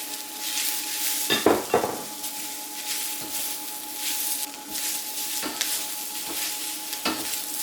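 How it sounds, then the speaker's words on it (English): Beef stir-frying with onions, carrots and snow peas in a hot pan: a constant sizzle broken by repeated scraping stirs and clinks of a utensil against the pan, close and clear. "We're going to add half cup of carrots. Stir that in. Next, we're going to add half pound of snow peas."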